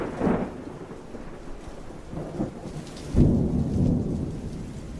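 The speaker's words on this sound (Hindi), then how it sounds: "तूफान वातावरण में होने वाली एक अद्भुत घटना है।" Thunderstorm with heavy, steady rain and rolling thunder, a deep rumble building early on and a louder, closer crack and roll about two-thirds of the way through, with no voices.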